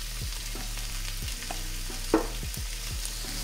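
Onions sizzle steadily in a hot pan, with a utensil scraping and stirring them in a repeating rhythm of soft strokes, close and fairly quiet, no voices.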